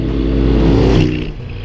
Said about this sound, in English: Ever notice how a motorcycle sounds different moving towards you than it does moving away from you?